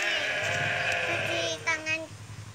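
Sheep or goats bleat several times, close and fairly loud, in a farm setting before being fed indigofera fodder, with overlapping calls toward the end.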